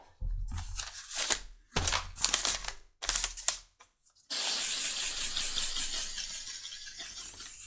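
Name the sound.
leather sheen spray finish being sprayed on holster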